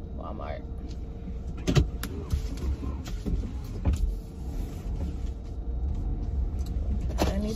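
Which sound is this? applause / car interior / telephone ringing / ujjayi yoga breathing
car interior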